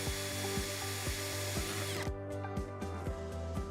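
A power drill with a 3.2mm bit bores pilot holes into a tilt door carrier, a steady close motor whine with rhythmic pulsing, its pitch dropping as load increases midway, then continuing alone without talk.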